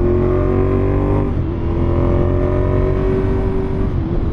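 A 2016 Ducati Monster 821 fitted with a Competition Werkes exhaust idles and revs up close, a loud, throaty engine drone with a brief dip in pitch partway through, with no talking.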